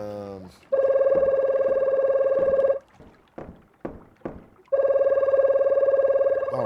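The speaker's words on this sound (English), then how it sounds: "Oh, a phone call." Telephone ringing in a video game: a loud, steady electronic ring tone with a sustained pitched buzz lasts about two seconds, gives way to a few short clicks and bumps, then starts again.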